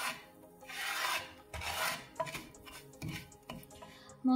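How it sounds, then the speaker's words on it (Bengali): Spice masala with turmeric fried in very little oil, stirred with rasping, scraping strokes of a spatula against the pan in uneven bursts, close and fairly quiet. "মশলাটা একটু ভেজে নেব।"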